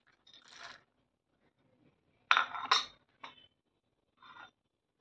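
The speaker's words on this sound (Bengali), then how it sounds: "এর মধ্যে আমি চিনে বাদামগুলো দিয়ে দিচ্ছি।" Peanuts drop into a kadai on a switched-off stove with a few light, sharp clinks and rattles in short separate bursts, quiet overall with silence between them.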